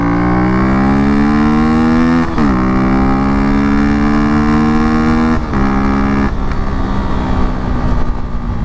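A motorcycle engine runs steadily close by, its droning tone rising slightly with a few quick throttle blips and shifts, loud and alone with no talk.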